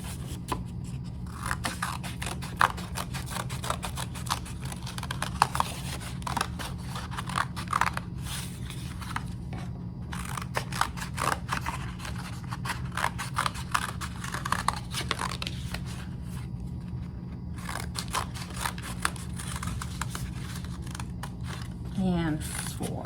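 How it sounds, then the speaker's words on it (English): Scissors snip and crunch through paper along drawn lines for a Calder-style paper sculpture, a continuous run of close, crisp cuts and rustles over a steady low background hum. "take our scissors and cut along these lines that we drew"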